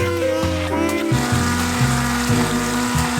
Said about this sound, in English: You could put this in a regular blender, but I have this hand blender that I like.